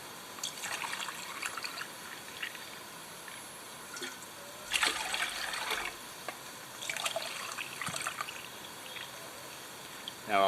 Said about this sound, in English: I'll put 3 mugfuls of cold water in.